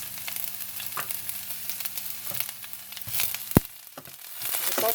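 Garlic and shallot frying in oil in a pan give a soft, continuous sizzle with crackles and one sharp pop near the end, heard close and alone.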